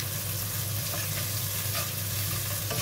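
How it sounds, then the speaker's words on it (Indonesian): Shallots and garlic sautéing in a pan for a Javanese-style stir-fried water spinach dish give a steady, close frying sizzle with soft stirring scrapes throughout, without talk. "Kita tumis dulu bawang merah, bawang putihnya."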